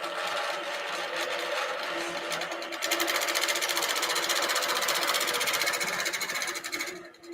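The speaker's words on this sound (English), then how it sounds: "say continue, and it'll start stitching the design" An embroidery machine stitches a design with a fast, even needle rattle, close and continuous, speeding slightly partway through before stopping at the end.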